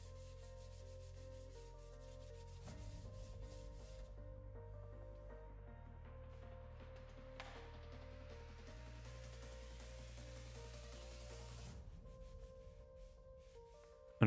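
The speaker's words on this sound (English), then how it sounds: "I also hand sanded the edges and then the two screws as well." Hand sanding of a wooden cutting board's edges, a faint, steady rubbing scratch repeating in back-and-forth strokes, quiet and close with a low hum underneath and no talking.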